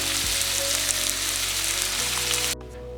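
Steady, dense sizzling of bread slices frying in hot oil for hot sandwiches, loud and close, with a faint clink near the start before the hiss drops off abruptly.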